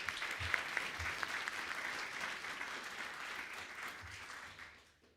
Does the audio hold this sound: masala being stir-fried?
no